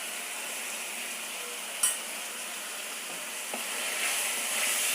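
Chopped tomatoes with turmeric powder sauté in a hot pan, a steady soft sizzle throughout, with a single sharp clink of a utensil partway through.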